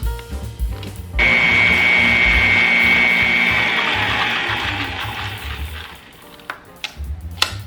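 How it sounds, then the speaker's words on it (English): An electric mixer creams butter and sugar for a yellow layer cake, starting abruptly with a loud steady whirring hum that slowly eases, then cuts off into a few soft clicks and knocks. "Back to mixing."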